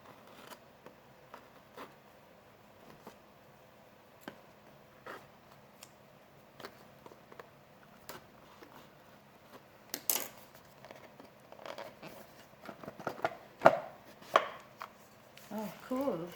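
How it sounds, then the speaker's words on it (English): The cardboard packaging of a Samsung Galaxy Buds Live box is cut open along both sides. Faint ticks and scratches come first, then louder irregular cutting, tearing and tapping sounds build toward the end. "To figure out, yeah, I have to cut both the sides."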